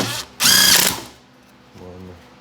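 A power driver whirs briefly, loud and close, backing out a screw from the housing of a Stihl FS55 gas trimmer that won't start, followed by a softer, lower mechanical rattle.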